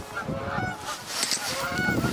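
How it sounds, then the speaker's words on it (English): Geese honk repeatedly in a loose, overlapping chorus at moderate distance, with several calls layered over a steady outdoor background and no voices. "the noisy geese have left"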